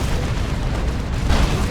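Melta bombs detonate against a Baneblade super-heavy tank in the strategy game Dawn of War 2, a dense, sustained low rumble of blasts that swells near the end, loud and close with no talk.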